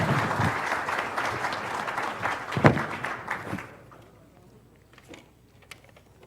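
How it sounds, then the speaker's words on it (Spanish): Welcome applause from a conference audience greeting a panel at an innovation event, a dense patter of many hands that fades out about halfway through, leaving quiet room sound with a few faint scattered claps. "le ruego un aplauso de bienvenida para el panel"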